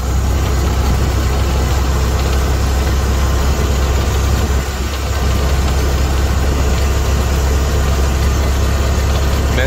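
A Ford Model T engine idles with its spark retarded, a steady low rumble with a slight knock running close and unbroken throughout, dipping briefly near the middle.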